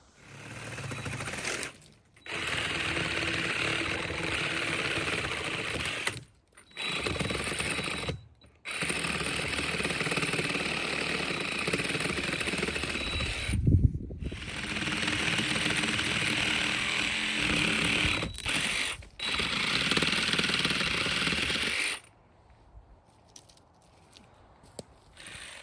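A reciprocating saw fitted with a 12-inch blade cuts through a large log during trail maintenance. A loud, close, buzzing rasp runs in long bursts broken by short pauses, then stops near the end.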